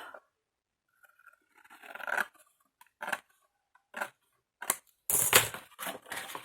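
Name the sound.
cutting paper washi strips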